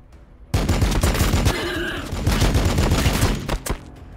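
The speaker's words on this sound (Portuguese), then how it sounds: "Toma aí, tiro a queima-roupa." Point-blank gunfire in the video game Warhammer 40k Battlesector comes as a loud, dense burst of rapid shots lasting about three seconds. A heavy low-end rumble and a faint voice sit beneath it.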